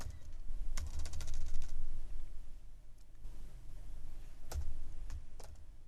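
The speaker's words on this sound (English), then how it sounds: "what is wrong with my typing?" Fingers type on a computer keyboard while entering code for an ASP.NET Core project, producing bursts of rapid close clicks with short pauses and a few isolated key taps.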